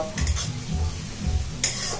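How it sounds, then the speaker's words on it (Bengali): Sliced onions fry in hot oil for a mutton curry while a spatula scrapes and stirs the pan in a steady rhythm, soft sizzle underneath, nearby and without talk. "এখন পেঁয়াজ ভাজা হোক"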